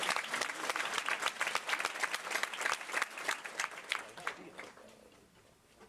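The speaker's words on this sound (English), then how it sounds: "Please give yourselves a round of applause" A church congregation at a retreat bursts into dense, sustained applause, many hands clapping close and lively for about four seconds before it thins and fades out.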